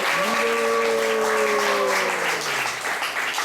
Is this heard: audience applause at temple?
yes